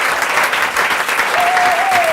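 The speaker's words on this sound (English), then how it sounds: "may I have a fantastic, warm, unbelievable applause for Soraya Mila, Joy, Lisette Lombe, and Elizabeth Acevedo" Audience applauding slam poets Soraya Mila, Joy, Lisette Lombe and Elizabeth Acevedo at a poetry event, loud dense continuous clapping, with a brief whistle near the end.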